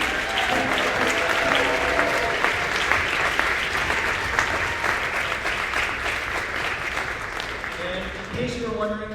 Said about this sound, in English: How about another round of applause for the jazz band?